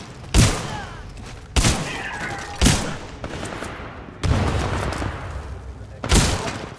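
An auto shotgun in a first-person shooter fires five loud, punchy blasts at irregular intervals of about one to two seconds, each followed by a ringing decay.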